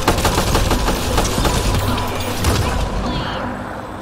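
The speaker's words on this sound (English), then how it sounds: "what are you shooting at all of a sudden?" Rapid automatic gunfire and impacts in the Mass Effect Andromeda video game, loud and continuous combat that fades out near the end, with a voice talking over it.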